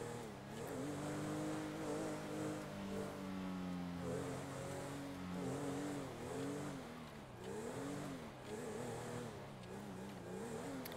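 A car engine revving with a strange, synthetic tone, like an electric car imitating a muscle car's roar, sustained and loud with rising and falling pitch swings throughout.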